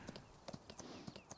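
Horse hooves clip-clop steadily on the ground in Farming Simulator 19 as a racehorse is trained: a close, even series of distinct hoofbeats with no talk.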